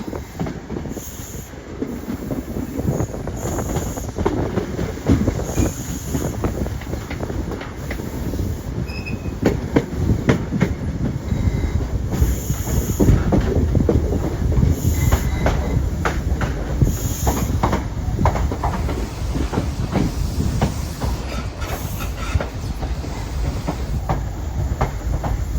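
A train led by two Class 90 electric locomotives, numbers 001 and 002, rumbles past close by with a steady rail roar, clickety-clack of wheels and occasional squeals, sustained for the whole stretch without any talk.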